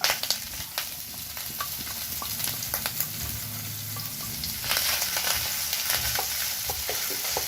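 The white part of spring onion sautés in a pan for restaurant-style chili chicken, a continuous close sizzle with frequent small stirring clicks and scrapes throughout, no talking.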